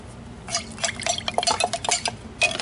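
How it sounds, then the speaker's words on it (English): DuraCoat gun coating is stirred in a container, producing a series of soft, close liquid swishes and light scrapes in irregular bursts. "And now we stir."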